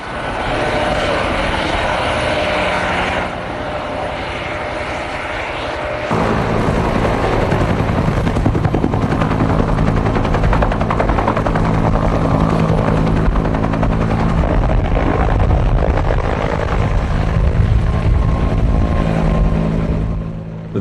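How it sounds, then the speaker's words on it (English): A helicopter hovers close and loud, offloading logs from a salvaged ship with a New Zealand-invented log clamp. Steady rotor thrum and engine whine run throughout, deepening and growing heavier partway through, with no talk. "On board, logs are being discharged by helicopter using an ingenious New Zealand invented log clamp"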